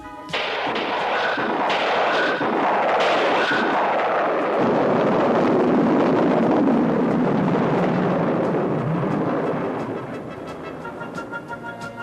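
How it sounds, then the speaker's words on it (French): A spaceship in a French-dubbed Transformers cartoon lifts off with a loud, sustained roaring rumble like rocket thrust, swelling steadily for several seconds before easing near the end. "Tout est au point, Primus. Décollage."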